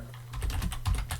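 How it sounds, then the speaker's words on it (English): Fingers type Linux terminal commands on a computer keyboard, a rapid, close run of about eight clicking keystrokes in just over a second over a low hum. "by typing cd tilde and then typing ls-la"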